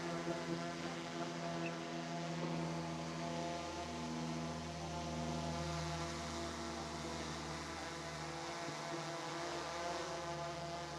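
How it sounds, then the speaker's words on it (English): A camera drone flies nearby while being brought down to land after a roof inspection, giving off a steady, loud motor whine with layered tonal harmonics that holds for the whole stretch, with no talking. "I'm gonna go ahead and bring the drone down now"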